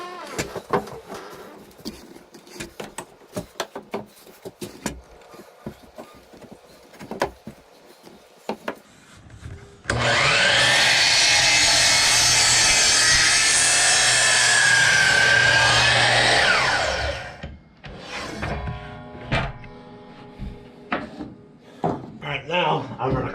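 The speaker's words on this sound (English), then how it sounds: "We'll cut once here and then here." A saw cuts through wood in a workshop, a loud, continuous rasping burst lasting about seven seconds, with talking and handling noises before and after.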